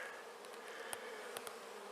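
Honeybees buzz steadily at a beehive entrance during a hive inspection, a continuous close drone with a few louder insects passing near, no talking.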